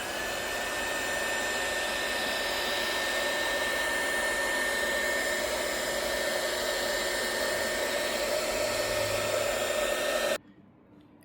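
Steady, loud whoosh of a heat gun or hair dryer warming the back panel of a Hong Kong Galaxy Note 20 Ultra, blowing continuously for about ten seconds before cutting off abruptly.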